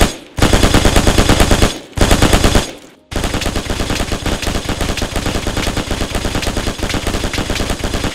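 A machine gun in Hell Let Loose fires in long, loud, rapid automatic bursts. Two short bursts are separated by brief pauses, followed by a sustained stream of rapid fire close by.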